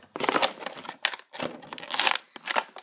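Plastic toy packaging for Animal Jam mini figures being ripped open by hand, in three or four bursts of crinkling and tearing with short pauses between, close and fairly loud, with no talking.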